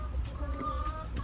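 A rooster and hens cluck in the background of a farmyard, soft intermittent calls mixed with faint ambient noise and no clear talk over them.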